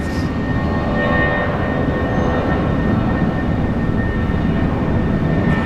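A Jetstar airliner at Brisbane International Airport makes a loud, continuous broadband engine roar with a low rumble, steady throughout and heard without any talk.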